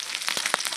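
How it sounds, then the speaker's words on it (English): Bacon fries over a Firebox stove fueled by burning wood, with a steady close-up sizzle and a few brief louder crackles and pops standing out, no voices. "bacon takes quite a while to cook"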